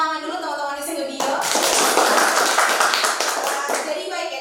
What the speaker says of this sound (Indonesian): Kita kasih tepuk tangan dulu teman-teman di studio.